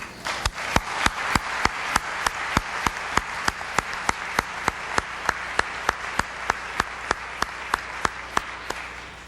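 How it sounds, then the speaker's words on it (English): An audience applauds at the 1995 Chicago LGBT Hall of Fame induction ceremony: a steady wash of clapping with one loud, evenly spaced clap standing out close by, continuing without pause for about nine seconds. "I think you should give yourselves a round of applause"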